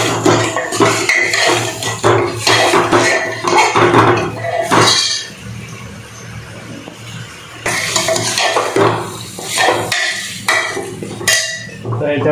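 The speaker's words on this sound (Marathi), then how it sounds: "आता आपण ही भाजी याच्यात टाकणार आणि फ्राय करून घेणार" Vegetables fry in a pan for chicken curry, with repeated scraping and clinking of a utensil against the pan over a soft sizzle, in bursts broken by a brief quieter stretch.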